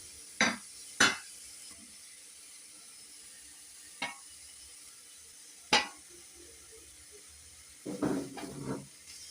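Shallots, ginger, garlic and tamarind roasting in a pan are stirred, giving a few sharp, separate spatula scrapes over a faint sizzle, then a busier burst of scraping at the end, with no voices.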